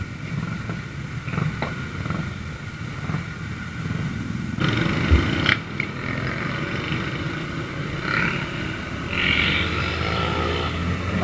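A KYMCO Like 125 CVT automatic scooter runs while being ridden in traffic, its small engine a steady buzzing drone that swells as it accelerates, with wind noise and occasional passing traffic.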